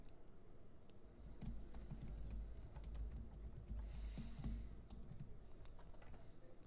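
Comment typed on a computer keyboard while correcting student work in Microsoft Teams: steady, quiet clicking of keys over several seconds, close and soft, with no talking.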